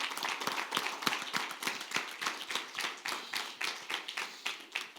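Church congregation clapping during a Spanish-language service, many hands striking in a fairly quick, partly rhythmic pattern, moderately close and steady throughout with no talking.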